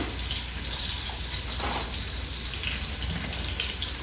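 Steady splashing, pouring water fills the whole clip, close and fairly loud, with no voices over it, as soya chunks are put into water.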